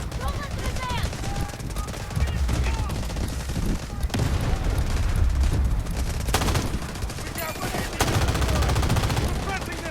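Heavy gunfire in the shooter game Delta Force: dense, rapid bursts of automatic shots rattle almost without pause and stay loud throughout, with a short lull near the middle.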